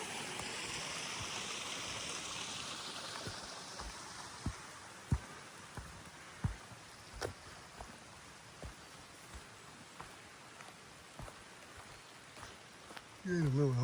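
A small creek feeding Bear Lake, heard on a cloudy hike as a steady hissing rush of flowing water with scattered sharp splashes and knocks, rising louder at the very end.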